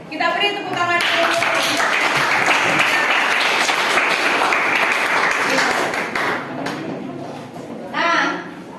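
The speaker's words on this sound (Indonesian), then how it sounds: "Kita beri tepuk tangan dulu." A classroom of students applauds a classmate's answer during a chemistry lesson, brisk close clapping that runs for several seconds and tapers off, with voices talking at the start and end.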